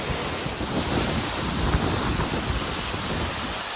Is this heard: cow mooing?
no